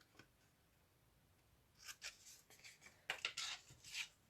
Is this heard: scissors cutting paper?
yes